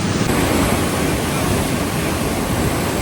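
A canal runs high and fast under strong pressure, its rushing water a loud, steady broadband roar close by with no break.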